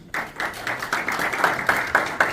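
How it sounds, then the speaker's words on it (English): Audience applause at a business leaders forum on Southeast Asia, welcoming a speaker; steady, fairly close clapping from a modest crowd, continuous and even throughout. "Please welcome him with warm applause"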